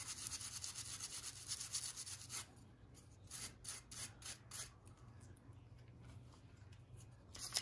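A toothbrush scrubs gunk out of a switch with quick back-and-forth rubbing strokes, close and steady at first, then breaking into separate bursts of brushing.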